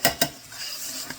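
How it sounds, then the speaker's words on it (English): A spoon or ladle clanks twice against a pot of Cajun smoked soup with potatoes, followed by soft scraping and a gentle simmering sizzle, up close with no talking. "Just stir it."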